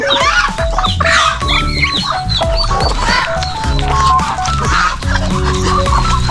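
A backyard hen clucks among her chicks, the repeated short clucks and thin peeping calls overlapping close by and fairly loud, with a busy rhythm of calls throughout.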